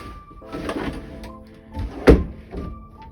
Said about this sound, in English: and lo and behold, the door closes now